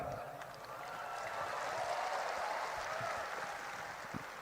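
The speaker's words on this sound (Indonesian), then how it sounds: "Belum selesai udah tepuk tangan" A hall audience at a Gerindra party event claps during the introduction of Sufmi Dasco, soft, distant applause that swells slightly and then holds steady.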